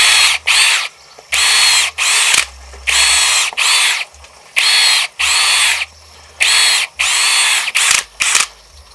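An AEG BSB18BL cordless drill bores into a piece of hardwood firewood in repeated loud bursts of high whining motor, each run lasting about half a second, separated by short pauses.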